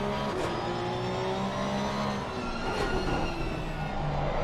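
Porsche 992 Cup race car engine heard from inside at Zandvoort circuit, a loud continuous roar with harmonic whine that rises slightly under throttle, dominating throughout.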